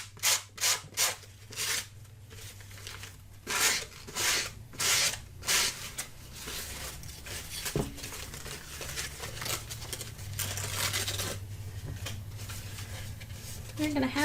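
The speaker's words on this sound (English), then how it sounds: "this is really where I'm going to get the sanding block out and sand this off" A sanding block rubs sandpaper glued onto a paper journal card in a quick series of rhythmic rasping strokes. The strokes then ease into softer, continuous scrubbing, all close and fairly quiet.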